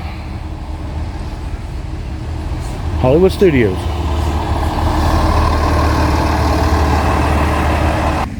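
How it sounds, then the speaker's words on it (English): A resort shuttle bus pulls in at Disney's Saratoga Springs Resort, its heavy engine rumbling low and steady close by through the whole stretch, with a person talking over it. "Here comes a bus now"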